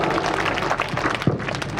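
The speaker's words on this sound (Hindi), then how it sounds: "एक बार जोरदार तालियां NP सिंह साहब" Loud, dense applause from an audience at a live event honouring a senior official, steady clapping filling the whole short stretch with no voice over it.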